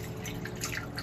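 Water poured into a bowl for making sourdough bread, a brief close splashing and trickling that runs continuously through the short moment.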